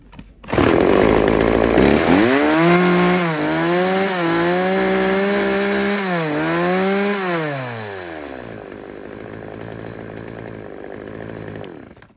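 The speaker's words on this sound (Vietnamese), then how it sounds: "con M14 là một con cưa xích công suất 38cc" A 38cc M14 two-stroke chainsaw, a used Japanese import, runs loud and close. It revs up sharply, holds a high buzzing whine with a couple of throttle dips, then settles to a lower drone before cutting off.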